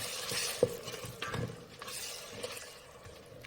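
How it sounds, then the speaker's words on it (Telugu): A paste of coriander, mint and fenugreek leaves fries over low heat, giving a soft, steady sizzle with occasional scraping stirs of a spoon against the pot, close by and without talk. "కొత్తిమీర, పుదీనా, మెంతాకు సిమ్ములోనే పెట్టి ఫ్రై చేస్తూ ఉండాలా"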